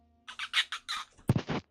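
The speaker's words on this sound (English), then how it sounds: "Oh look, it's an otter." A small otter creature in a spooky-season video game lets out a run of short, high squeaky chirps, followed by a louder cluster of squeals near the end.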